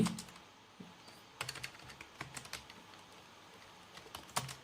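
Fingers type on a computer keyboard, a quiet run of irregular clicks with a few stronger taps and short pauses, close by and with no talking.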